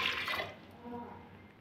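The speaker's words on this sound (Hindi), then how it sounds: "और इसमें हम डालेंगे 1 गिलास पानी" Water from a glass poured into a pressure cooker holding chana dal, a short splashing pour that is loudest at the start, then fades to a softer trickle.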